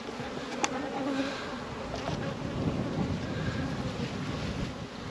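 Honey bees buzzing steadily at an open hive during an inspection in New Zealand, a dense continuous hum close to the microphone with some wind noise, no talking.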